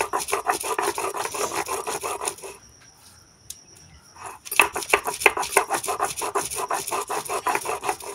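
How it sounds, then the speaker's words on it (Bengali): Grass leaves being ground by hand for sherbet juice in a village kitchen, a steady rhythmic rubbing and grating with a short quiet pause midway before the strokes resume. "এগুলোকে ভালো করে সুন্দর করে বাটতে হবে আর বেটে এর থেকে রস বেরোলে সেই রসটাকে নিতে হবে"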